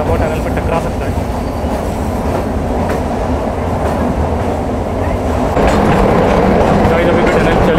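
Kalka–Shimla toy train rumbling through a tunnel, a loud continuous roar of wheels and carriage noise that swells slightly louder toward the end, with faint voices underneath.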